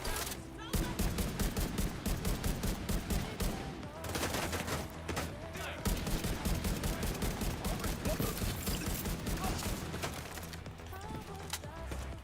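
Rifle fire in The Division 2 comes as dense, rapid rounds in long sustained bursts with only brief gaps, loud and close throughout, mixed with game sound effects.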